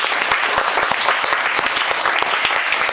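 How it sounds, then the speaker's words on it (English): An indoor audience at a classroom debate claps loud and steady, a dense patter of many hands. "Let us give your teacher a big round of applause."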